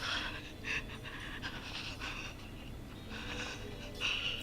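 Ragged, quiet panting breaths from a character hiding in the horror game Killer Frequency, a steady series of short wheezy inhales and exhales over a low murky background rumble.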